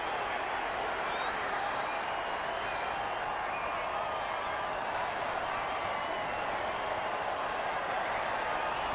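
A crowd cheers and roars in a football video game, a dense, steady wash of stadium noise that holds at an even level throughout.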